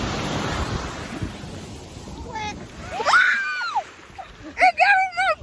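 Ocean waves breaking on a beach, a broad rushing wash with wind noise, then voices talking and exclaiming over the surf in the second half.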